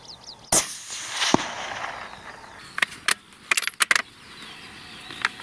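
A rifle shot fired at a fox about 200 metres away across a field, heard as a sharp crack followed by a few scattered impact-like clicks and knocks, with outdoor ambience and no talking.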